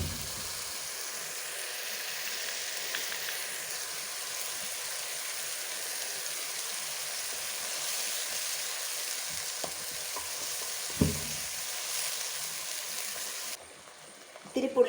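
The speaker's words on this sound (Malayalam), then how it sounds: "ഇനി നന്നായിട്ട് നമുക്ക് ഈ കളറൊക്കെ മാറി വരുന്നത് വരെ നമുക്ക് വഴറ്റിയെടുക്കണം." Onions for a Kerala onion chammanthi sauté in a hot pan with a steady, dense sizzle and hiss, punctuated by a few scrapes of stirring near the end.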